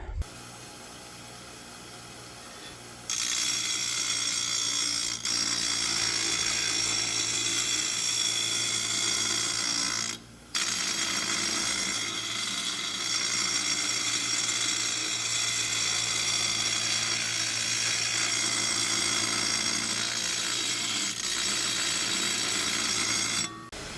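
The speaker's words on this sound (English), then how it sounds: "I have to grind down the end of this little dude so I can fit it on there" Grinding down the end of a small metal part for a 1940 Ford 9N tractor: a loud, steady abrasive whine and rasp runs almost the whole time, with a brief quieter start and one short break near the middle.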